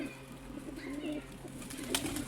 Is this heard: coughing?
no